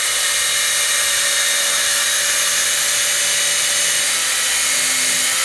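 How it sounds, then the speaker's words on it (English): A drill whines steadily and continuously up close as a screw is driven at an angle through sheetrock into a stud, a high, even buzzing with no pauses. "I'm going to have to drill this in at an angle"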